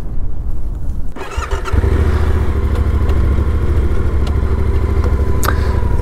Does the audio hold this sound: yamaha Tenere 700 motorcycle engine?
yes